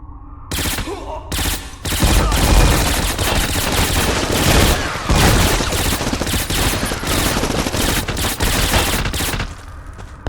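Sustained gunfire from the 2006 first-person shooter Black, a dense, loud barrage of rapid automatic bursts and overlapping shots continuing almost without pause over about ten seconds, with no speech.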